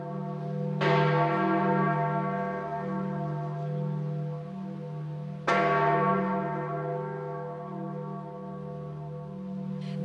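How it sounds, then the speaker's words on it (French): A large church bell in Rome tolls twice, slow and deep, each strike ringing out with a long, resonant hum that hangs in the air between strokes. "les cloches qui sonnent à travers la ville"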